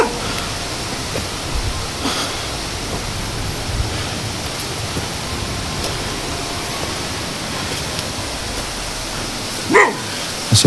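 A dog barks a couple of times in the distance near the end, faint against steady rushing noise like wind or water.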